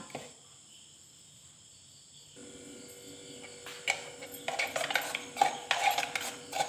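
Egg batter with chopped green chilli, curry leaves and salt is stirred in a bowl. After a quiet start with a faint insect-like hiss, a spoon scrapes and clinks against the bowl, growing busier toward the end.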